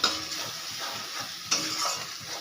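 Papaya and potato sauté with turmeric, chili, cumin and salt in a pan, a close crackling sizzle with two sharp spatula scrapes against the pan.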